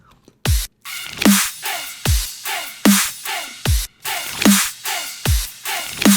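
A sparse electronic dubstep drum pattern plays alone: booming kicks and snappy snares with noisy tails, spaced in a slow half-time groove.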